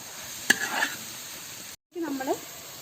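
Kashmiri chili powder and chicken masala are stirred in a pan for Kerala chicken curry: a brief sizzle with a couple of scraping strokes, split by a short silent gap.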